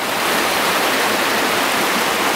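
Loud, continuous rush of water flowing along a flooded walking path in winter rain on the Camino Primitivo near Tineo, a dense unbroken roar like a river running close by throughout.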